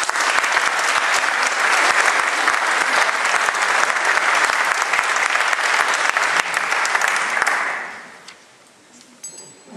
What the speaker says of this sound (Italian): Facciamo un applauso alla passione.